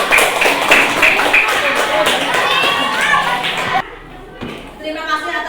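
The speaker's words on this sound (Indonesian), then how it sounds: "Tepuk tangannya buat kelompok 3." A classroom gives applause to group 3 after their presentation: a few seconds of lively clapping from pupils mixed with children's voices, then it quiets and a teacher begins speaking.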